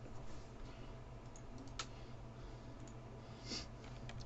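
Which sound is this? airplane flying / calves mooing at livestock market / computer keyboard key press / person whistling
computer keyboard key press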